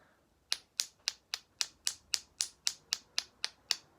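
Wooden blocks struck together as a percussion instrument, about fourteen sharp, even clacks in a steady rhythm, close and alone in a quiet room.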